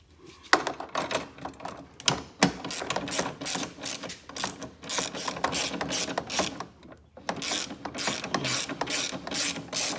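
A ratchet wrench tightens a mounting bolt for a Sheffield tool box on a Kioti CK3510SE tractor, giving rapid, close, repeated clicking bursts with short pauses between strokes.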